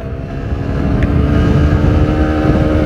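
Honda Bros 150 motorcycle, fitted with a 16-tooth front sprocket and 48-tooth rear sprocket, accelerating in first gear; a loud, close engine note builds steadily and holds strong to the end, with no talking.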